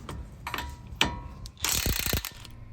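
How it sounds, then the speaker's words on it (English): An impact wrench with a 22mm deep socket hammers off a tie rod end nut on a 2018 Silverado 1500, giving several short, close rattling bursts followed by a longer loud burst. "I'm going to use my impact wrench to remove this guy with a"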